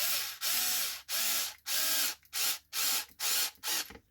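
Rapid ratcheting clicks in eight regular bursts, loud and close, as a long screw is driven on a Kyosho Mad Van RC car, each burst separated by a brief silent gap.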